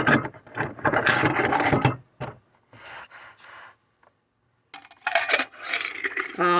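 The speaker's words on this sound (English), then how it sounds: "Let's try the keys again." Metal keys clink and rattle against a stainless steel insulated stash can as they are pushed inside, in several bursts of close jangling separated by brief pauses.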